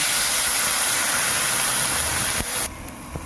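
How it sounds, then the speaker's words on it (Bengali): Water poured into a hot pan for a light curry of live fish with stalks gives a loud, steady steaming hiss that fills the air up close, then drops off sharply near the end. "এবার জল ঢেলে দেবো।"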